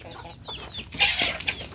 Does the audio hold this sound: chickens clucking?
yes